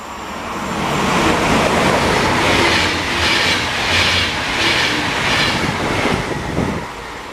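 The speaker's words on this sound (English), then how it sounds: "Here we got a train coming right now." A train passes through the Swiss Alps on the line toward Zurich, a steady rumbling roll with rhythmic clickety-clack of wheels on rails, fairly close and sustained, with no talking.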